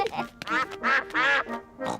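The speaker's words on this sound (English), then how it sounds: "Hello, ducks. We've got some bread for you. The ducks like bread." Cartoon ducks on a frozen pond give a string of loud, nasal quacks, four or five in a row with short gaps between them.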